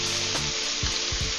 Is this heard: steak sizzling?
yes